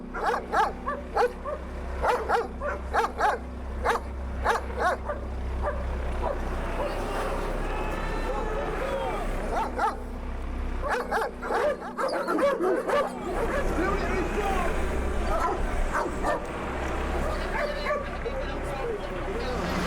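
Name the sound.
police dogs barking at football hooligans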